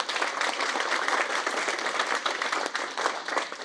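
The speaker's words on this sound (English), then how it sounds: "Let's give her a round of applause." An audience at a chess tournament opening breaks into dense, steady applause, many hands clapping together at a moderate distance for a few seconds.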